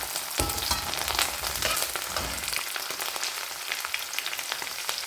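Chicken masala with curry leaves sautéing in a pan, a steady close sizzle with crackles and occasional stirring scrapes, no voices.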